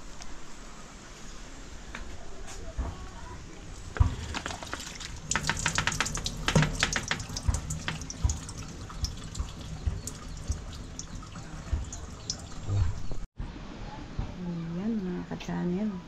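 Water runs from a tap while macaroni salad ingredients are being mixed in a home kitchen, a steady splashing flow with drips that carries on under talk for most of the clip.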